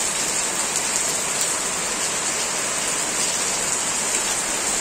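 Steady rain pours down outside on a hot day. It makes a dense, even hiss that holds at one level throughout, with no voices over it.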